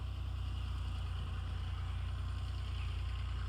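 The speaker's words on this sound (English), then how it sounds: "It's that tractor." A tractor engine running steadily nearby, a low, even rumbling drone with a regular pulsing throb and no speech.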